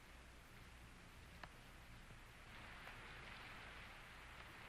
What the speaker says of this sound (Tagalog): Bakit di ka muna magpatila ng ulan?